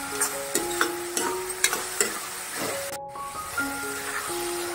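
Onion frying and softening in a pan for mushroom masala, with a constant sizzle and hiss under rhythmic spatula scrapes and knocks against the pan, close by and fairly loud.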